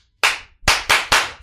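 Hands clap in a rhythmic chant, one sharp clap followed by a quick run of three, loud and close in an otherwise quiet room.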